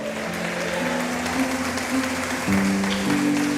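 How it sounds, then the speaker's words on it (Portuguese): A church congregation claps together at an evening service, producing a steady roar of applause over sustained keyboard chords that shift in pitch underneath. "Aplauda Ele nessa noite"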